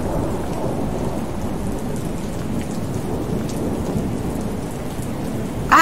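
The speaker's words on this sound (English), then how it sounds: "Or it's just raining by the bucket full." Heavy rain pours in a dense steady hiss while thunder rumbles underneath throughout a thunderstorm, with a sudden louder burst at the very end.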